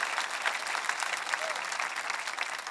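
Sustained applause from a crowd, steady dense clapping throughout without pause.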